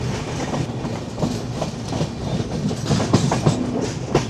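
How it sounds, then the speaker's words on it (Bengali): Kulik Express (13054) rolling into New Farakka Junction, a close rumble of railroad cars with rhythmic clickety-clack wheel beats over track joints growing slightly louder toward the end. "ট্রেন ঢুকছে নিউ ফরাক্কা জাংশন।"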